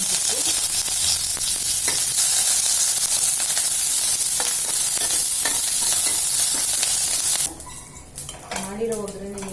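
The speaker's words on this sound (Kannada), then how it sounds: "ಸಾಸಿವೆ, ಜೀರಿಗೆ, ಒಣಮೆಣಸಿನ್ಕಾಯಿ 2 ಮುರಿದಾಕ್ತಾ ಇದ್ದೀನಿ." Mustard seeds, cumin and two broken dry red chillies sizzle in hot oil as a tempering for amla rasam, a loud, dense crackle with sharp pops that runs steadily, then drops to softer clatter near the end.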